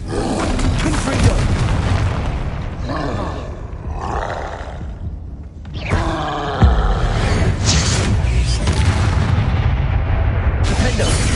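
Confringo fire spells explode in Hogwarts Legacy combat, with booming blasts and roaring bursts in quick succession, loud and close, and a sharp hit near the middle.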